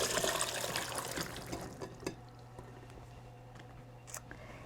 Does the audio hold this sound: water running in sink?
yes